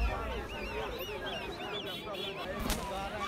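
Ducks at a busy duck market in Dhaperhat, Bogura, honk and quack in a dense, continuous chorus of overlapping calls, with crowd murmur and voices mixed underneath throughout.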